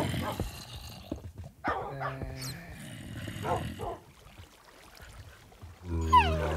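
Dogs in a Minecraft modpack (Vintagecraft UHC) bark and growl in short bursts, fairly close, mixed with other game noises and brief gaps of quiet.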